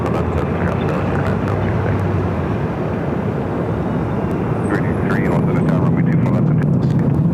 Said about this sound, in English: Also have Asiana, the A380 Super, now pushing back, flight 201, heading back to Seoul